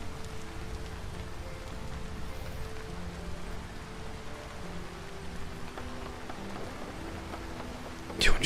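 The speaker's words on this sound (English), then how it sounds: "I love the sound of rain in the leaves." Rain pattering steadily on leaves in a video game, a soft continuous hiss of drops at even loudness, with a brief louder burst near the end.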